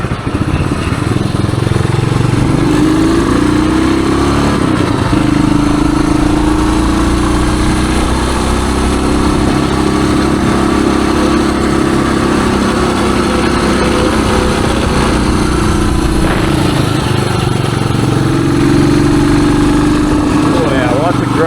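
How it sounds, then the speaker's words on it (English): A 1978 Suzuki DR370 dirt bike pulls up a hill in fourth gear, its single-cylinder engine droning loud and steady close by for the whole stretch, with a rider's voice speaking over it at times. "That's fourth gear going up this hill."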